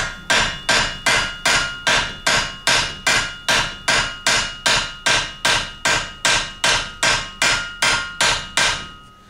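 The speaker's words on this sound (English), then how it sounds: "So what I do is I make some small taps in the center of this to stretch the steel" Ball peen hammer tapping in the center of a soft steel piece to stretch it, a steady run of about twenty sharp, evenly spaced metallic strikes close up, with no talking.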